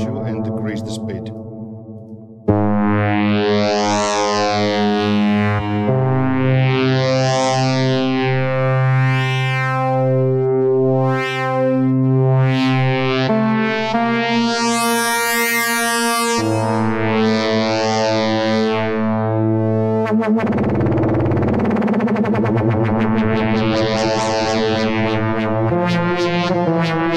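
An IceWorks Nambu FM synth plays sustained tones with harmonics that sweep up and down in slow waves under LFO 2 modulation, loud and continuous with a bright metallic shimmer and no speech.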